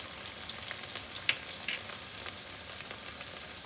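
Sweet corn sautéing in a pan, a quiet steady sizzle with a few soft clicks and spatula scrapes, close by and without any talking.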